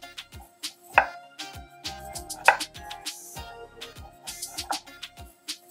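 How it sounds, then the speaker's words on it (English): A knife slicing through washed fresh ginger with its skin on, a series of sharp, close thuds on a cutting board at an irregular pace, with no speech. "If you wash the ginger thoroughly, which I have, you can also just use the skin. Take off a few slices."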